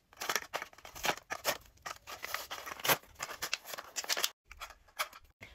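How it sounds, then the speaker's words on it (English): Small scissors snip through packaging in a quick run of sharp, close cuts, with a brief pause before a few final snips. "I got some little tiny scissors because I can't find my big scissors."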